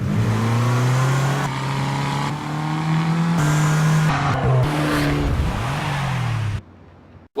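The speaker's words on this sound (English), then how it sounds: "The Fiat 500 Abarth." A Fiat 500 Abarth car drives hard, its engine revving loud and close in a steady drone that rises and falls across several gear changes, with some tire noise, before cutting off near the end.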